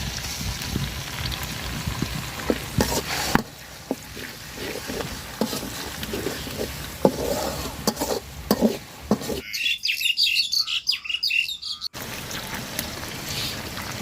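Chili and garlic paste hits browned onions in a hot pan with an irregular sizzle and crackle, a few stirring clanks at first, then a brief sharp hiss near the end before settling back to steady frying.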